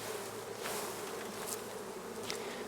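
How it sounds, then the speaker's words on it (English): Honeybees around a hive hum in a steady, faint buzz, with a few individual insects droning louder as they pass close by. "shake the bees off first, Rog, come on."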